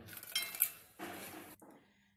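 Dried tamarind dropped into a metal pot in a home kitchen for chutney, with a few close clinks and rattles of utensils and dishes in two short bursts before it goes quiet.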